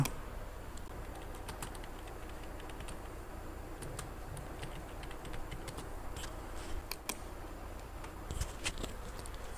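Card details typed on a computer keyboard for an online card payment: a steady run of light, close keystroke clicks with brief pauses, alone with no talking.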